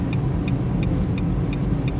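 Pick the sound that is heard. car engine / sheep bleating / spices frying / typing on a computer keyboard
car engine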